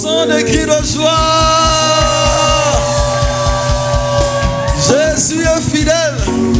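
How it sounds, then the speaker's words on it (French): A church congregation shouts for joy, a loud dense wash of voices with whoops over pounding drums and steady rhythmic music. "Poussons des cris de joie."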